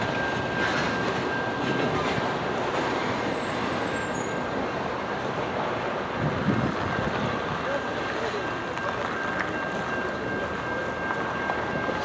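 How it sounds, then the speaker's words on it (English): A Norfolk Southern NS 811 freight hopper train led by NS 8095 rumbles past close by, westbound in Suffolk, in a steady, dense roar, with wind buffeting the microphone throughout. "we have NS-811 hopper train westbound here in Suffolk"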